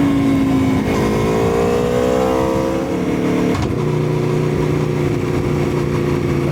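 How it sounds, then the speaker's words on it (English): Close and loud, an Aprilia Tuono V4 1100 Factory fitted with a factory Aprilia exhaust on a race map, baffle removed, revs up, holds and drops back in pitch in several distinct stages with a smooth, throaty snarl. "this has got the factory fitted Aprilia exhaust, and that comes with a race map as well"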